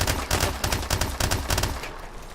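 Akimbo MP443 Grach pistols fire in Call of Duty Advanced Warfare, a rapid stream of loud, close gunshots at a high rate of fire for about two seconds before trailing off.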